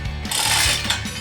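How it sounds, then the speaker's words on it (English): A chain being ratcheted tight to hoist a submersible well pump out of its well, a brief run of clicking, grinding metal mechanism close by, moderately loud, with no talking. "use our chain, tighten up the chain"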